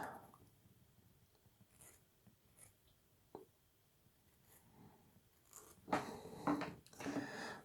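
Small scraping and rasping strokes from filing down the cut points on a plastic Bismarck battleship model part, quiet and intermittent, building to denser, louder scratching near the end.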